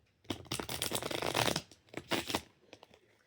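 A deck of playing cards being shuffled up close, a dense rustling riffle in several bursts with short pauses between them, with no talking.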